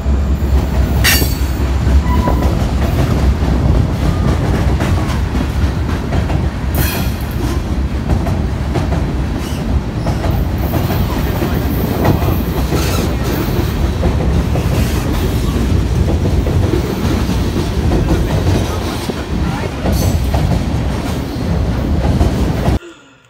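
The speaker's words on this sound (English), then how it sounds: "we weren't expecting a train to come through." A train rumbles by continuously and loudly, wheels clattering with occasional high metallic squeals, no voices.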